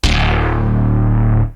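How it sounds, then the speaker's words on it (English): A gritty, distorted synth bass hits once with a sharp attack and sustains heavily for about a second and a half, loud and alone, then fades out. "Then I wanted to add like the cyberpunky bass in the intro"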